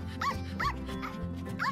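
A small dog barks in short, repeated bursts, four yaps spaced about every half second against a steady low background, fairly close and clear.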